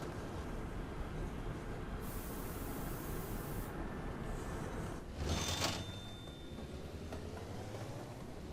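A train running in the video game Mashinky, a soft steady rolling hiss with a brief louder burst near the end and a faint whistle-like tone, quiet overall.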